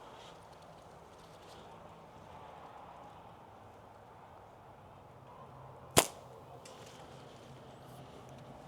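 A single sharp snap rings out as a slingshot fires from a kangaroo leather pouch, one brief crack rising out of a quiet background.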